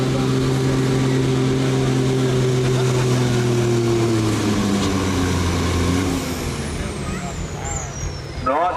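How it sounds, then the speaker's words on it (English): A Kenworth T600 truck strains down a county fair pulling track, its loud diesel roar holding steady tones before dropping and sputtering as it slows, with a high whine sweeping downward near the end. "Here comes Mason Wilkinson on that Kenworth T600. Looking to make some noise out here past McCormick."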